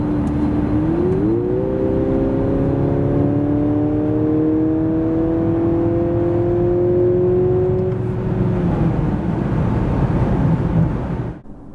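A 2.0-litre 313 hp Mercedes GLC 300e plug-in hybrid pulls hard from 90 to 140 km/h. A sustained, rising engine drone swells after a brief kickdown, loud and continuous inside the cabin, then cuts off abruptly at the end.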